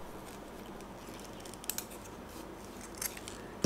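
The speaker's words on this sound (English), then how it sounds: "Cut the excess fabric" Scissors trimming excess fabric while making a fabric hair bow, a few faint quick snips over quiet background hiss.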